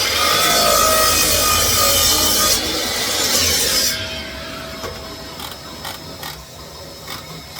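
A mitre saw cuts through wood for a nest box: a loud, dense rasping cut for about four seconds, then quieter mechanical clicks and rattles as the saw winds down and settles.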